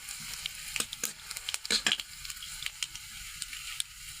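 Garlic frying in hot oil for a traditional village ghorkhatta chutney, with close, crackling sizzle and sharp spitting bursts, busiest around the middle, and no voices.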